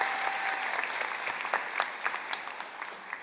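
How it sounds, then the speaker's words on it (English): Graduating class of 2024 applauding at a Manship School of Mass Communication commencement ceremony, a large crowd clapping steadily and loudly throughout, with a few sharper claps standing out near the front. "So give yourselves a round of applause."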